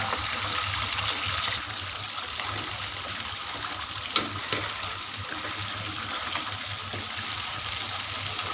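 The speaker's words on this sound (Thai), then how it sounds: "ทอดไปเรื่อยๆนะครับ จนกบปลาจะสุกกรอบนะครับ" Fish deep-frying until crispy in hot oil gives a steady hiss and sizzle, with a few louder crackles and pops.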